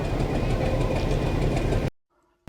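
A train at Mettupalayam railway station rumbles steadily with a dense, low mechanical roar and faint rattling for nearly two seconds before the sound abruptly cuts out.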